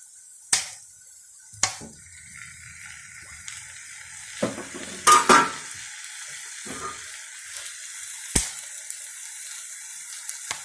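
Boiled chicken kachori filling with soy sauce and chili sauce sizzling in a pan, a steady soft hiss broken by several sharp spoon scrapes and clinks against the pan, with no talking.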